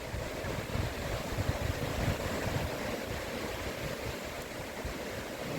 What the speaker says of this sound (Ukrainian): піднявся вітер і дивіться, яка хвиля йде